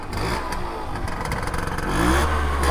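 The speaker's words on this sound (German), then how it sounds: "Hört sich halt an wie so ein Sportroller, ne, Chat? So eine Aprilia RS 50." A small sport scooter engine of the Aprilia RS 50 type revs steadily nearby, its buzzing note climbing louder toward the end with some rattling clatter underneath.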